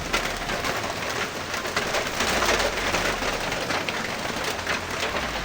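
Steady rain falls in a dense, even hiss with scattered pattering drops, continuous and fairly close, with faint bird calls in the background.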